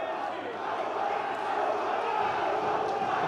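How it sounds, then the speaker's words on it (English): A crowd at an MMA bout roars and cheers steadily in a large arena, a continuous wash of voices at moderate distance with a commentator talking over it. "The crowd are cheering on Garred to get out of this position here"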